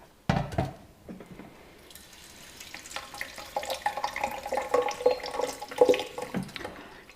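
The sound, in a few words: beads being rinsed under a running water tap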